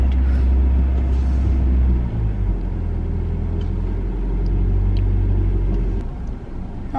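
Car being driven by a learner, a loud steady low engine rumble with road noise filling the whole stretch, easing slightly near the end, with no talking.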